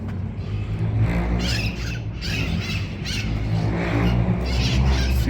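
Parrots squawk in scattered harsh bursts from trees at a distance in Sucre, Bolivia, over a steady low rumble of traffic.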